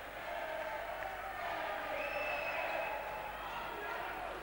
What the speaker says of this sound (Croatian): Evo jugoslovenski navijača, slušajte vi šta pevaju.